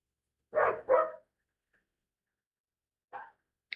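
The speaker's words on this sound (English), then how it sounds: "That's my neighbor dog. They just barking." A neighbour's dog barks from a distance, two quick barks close together, then a long silence before one more bark and a short clipped yip, all faint in a quiet room.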